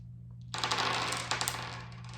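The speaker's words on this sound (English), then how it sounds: "And we get to roll all dice." Several dice rolled together for a solo game of That's Pretty Clever, a brief rattling clatter of rapid clicks lasting about a second and a half, close by and alone.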